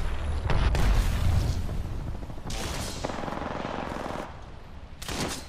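Heavy automatic gunfire and grenade blasts in Apex Legends, dense and loud throughout with rapid rattling bursts and deeper booms layered over one another.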